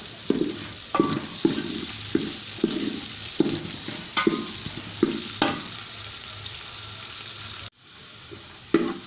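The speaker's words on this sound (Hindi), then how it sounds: "हमने प्याज को ब्राउन करना है" Onions browning in a pan for aloo gobi, a steady loud sizzle broken by regular scraping stirs roughly every half second, with a brief drop-out near the end before the frying resumes; no talking.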